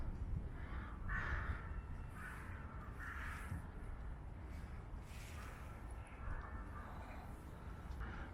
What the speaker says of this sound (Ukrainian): Лише ворони літають і своїм карканням порушують спокій цього місця.